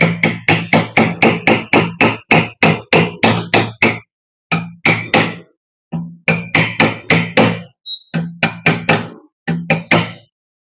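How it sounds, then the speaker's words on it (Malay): A hammer taps a bent water pump impeller straight on a flat surface, striking in a fast, even series of sharp metallic knocks with brief pauses between runs. "pergi dekat tempat rata anda ketuk je lah pakai tukul, dia akan jadi lurus balik"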